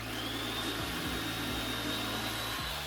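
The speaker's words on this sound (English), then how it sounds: "I will be using my turkey cutter once again." An electric turkey cutter slices through upholstery fabric for a headboard, a steady close motor whir with a few brief dips in pitch as the blade works through the cloth.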